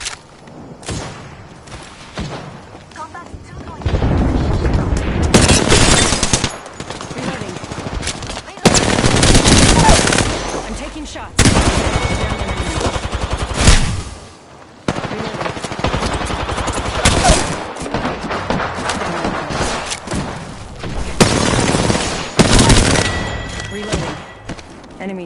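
Rapid automatic weapon fire in the shooter game Apex Legends, playing as Wraith, rattles in long loud bursts separated by brief pauses, with heavy thumping shots.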